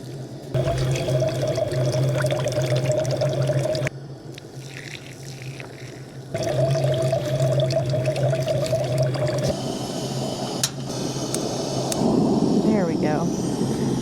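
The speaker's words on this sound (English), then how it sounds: "I'm going to rinse this as well as I can" Water is poured to rinse a pot at a camp cooking setup, a steady splashing pour that stops and resumes, with a person talking over it.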